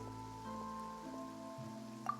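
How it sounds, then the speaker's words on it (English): Rainfall in the video game Genshin Impact, a steady moderate patter of drops with a faint musical hum underneath, continuous at an even level with no voices. "the skies will cloud up and pour out rain"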